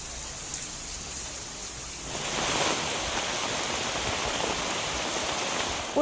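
Heavy downpour in Udupi district: a dense, steady hiss of rain that swells louder after about two seconds and stays constant, with no voices.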